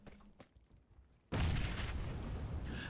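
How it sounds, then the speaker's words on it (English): A frag grenade blast in the PUBG video game: a sudden, loud, close explosion cuts in after a quiet stretch with faint scattered sounds, then rolls on as a sustained roar to the end. "Fantastic frag grenade from Dario."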